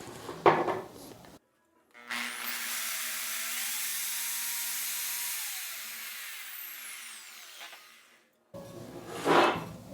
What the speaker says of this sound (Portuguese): Vamos furar essa parte central